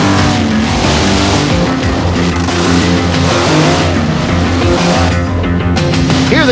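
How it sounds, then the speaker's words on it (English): Monster trucks drag race in pairs over a dirt course past stacked cars. Their engines roar loud and constant, with revving swells and tire squeal and no voices heard. "it's time for the trucks to pair off and drag race"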